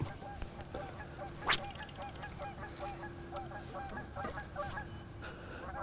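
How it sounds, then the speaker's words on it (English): Geese honk repeatedly in the distance, a rhythmic chorus of calls over faint outdoor ambience. "The birds are letting me know spring's coming. Geese are starting to pair up."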